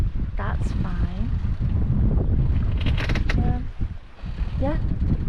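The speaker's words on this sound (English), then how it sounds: "Every now and again we get corkscrewed by the waves coming on the quarter" A small boat rolls through quartering waves at sea off the Cumbrian coast between Whitehaven and Maryport, with steady wind roar and water rushing against the hull, while voices and brief calls cut in now and then.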